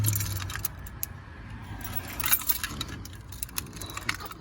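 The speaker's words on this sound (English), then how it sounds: "find my keys" Car keys for a 2005 Dodge Grand Caravan jangle close up in a steady, bright metallic rattle with small clinks throughout, over a low background hum.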